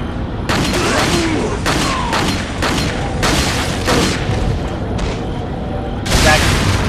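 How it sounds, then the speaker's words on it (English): Lit TNT going off in Resident Evil 4: a run of loud, booming blasts repeats every second or so over constant background noise, with the heaviest burst near the end. "Okay, I figured he was gonna explode. I saw that lit TNT."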